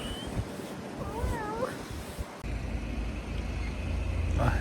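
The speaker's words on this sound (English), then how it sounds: "I feel so bad when I meet stray cats." A stray cat in Jordan gives a few rising, wavering meows at close range, followed by a steady rumble of passing road traffic.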